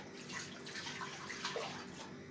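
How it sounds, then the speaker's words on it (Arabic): Water poured in a small stream into a simmering cooked tomato sauce, a steady quiet splashing trickle at close range for a couple of seconds, with no talking. "هنبدا ننزل بالصلصه بتاعتنا المتسبكه اهو عليها كده، وهزودها شويه ميه"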